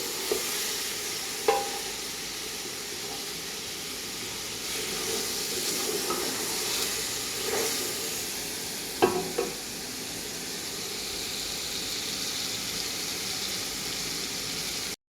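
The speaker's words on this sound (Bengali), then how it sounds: "আমি এখন হালকা লাড়ি দিব এখানে এগুলোতে" Spiced goat meat for biryani being stirred in a pot, a steady sizzle and steamy hiss with a few clanks of the spoon against the metal.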